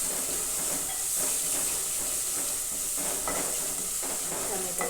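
Tomatoes and chillies sizzling in hot oil in a pan over a low flame, a steady close hiss and crackle with faint stirring clicks throughout.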